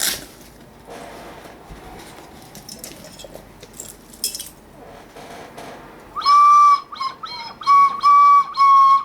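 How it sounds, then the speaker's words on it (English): Handling and rustling noises come first, then an ocarina plays a few breathy, whistle-like notes, some short and some held, close and fairly loud. "This is an ocarina."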